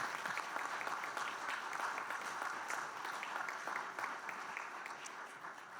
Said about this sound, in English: Round of applause for all of our panelists.